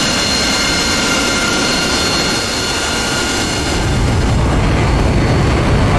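A jet aircraft's engines roar loudly and continuously during takeoff in the flight simulator DCS World, with high whining tones over a heavy rumble that swells near the end.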